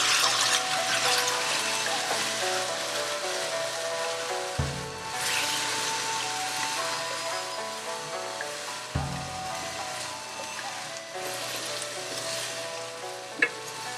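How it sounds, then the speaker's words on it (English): Vegetables stir frying with coconut cream for an Asian chicken or beef stir fry, a loud continuous sizzle close by, with two heavy thuds of stirring and a sharp clink near the end. "add the vegetable and coconut cream and stir fry until heated through"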